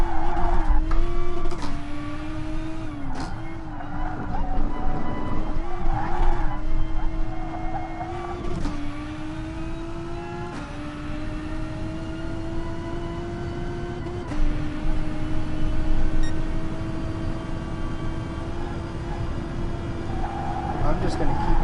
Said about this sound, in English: push this car too fast through some corners and see what happens